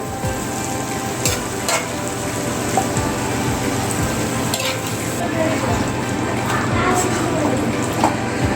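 Chicken cooks in masala for an Odia chicken aloo kasa, sizzling loudly and steadily while a spoon stirs and scrapes at intervals; a voice talks over part of it.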